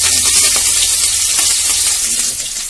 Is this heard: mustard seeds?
yes